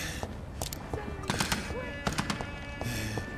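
Gunfire rings out in the video game Vampyr, with several sharp shots in quick, irregular bursts against a noisy background, close and loud.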